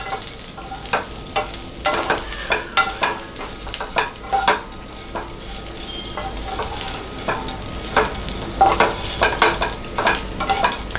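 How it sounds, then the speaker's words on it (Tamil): Uppu kozhukattai mixture stirred and mixed in a pan, repeated close scraping strokes in an irregular rhythm over a soft sizzle. "இதை நல்லா மிக்ஸ் பண்ணி விட்டுக்கோங்க."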